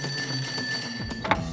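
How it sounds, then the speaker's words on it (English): A telephone ringing sound effect plays, a bright trilling bell with a couple of bursts over a steady background hum, moderately loud with no talk. "until one day in 1960, Robert's phone rang"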